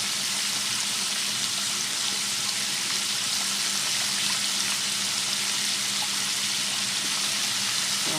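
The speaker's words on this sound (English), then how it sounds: "So I've added some more and I'm going to allow it to fry." Doritos-coated chicken tenders fry in hot oil with a steady, dense crackle and hiss that stays close and even throughout, with no talking.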